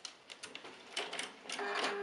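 A sewing machine stitches fabric, a corner advancing along a guide under the needle, giving a quick run of light mechanical clatter that grows denser and louder toward the end.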